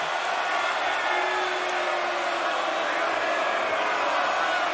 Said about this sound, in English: This Pittsburgh crowd, they can feel it.